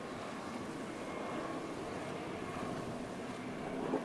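Wind gusts steadily across a sailing boat at sea, a broad, even rushing hiss with low buffeting, continuous and fairly faint throughout.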